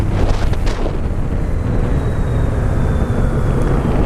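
A Honda Goldwing motorcycle leaning through corners, heard as a constant rushing roar of wind buffeting the microphone over a low engine drone, steady and loud throughout.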